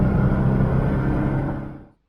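Small car nicknamed Raymond idling steadily with a bodged, sealed-up exhaust, a low even rumble close by that holds for about two seconds before cutting off abruptly.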